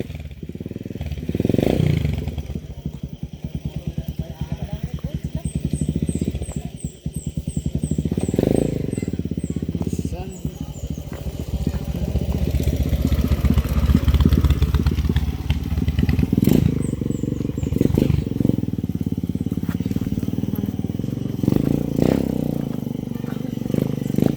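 A motorcycle engine runs on an outing to a mountain, loud and close with revving surges and rattling, clattering mechanical noise; the note rises and falls over a long stretch, with brief voices in the background.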